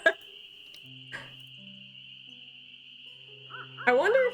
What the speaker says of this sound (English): Love the chirping worms.